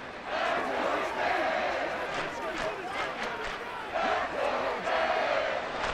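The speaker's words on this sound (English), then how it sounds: "this crowd doing their best to make a lot of racket" A stadium crowd roars in a simulated Dolphins vs. Jets NFL game in Madden 24 on PS5, a dense, steady wall of noise that swells and dips slightly throughout.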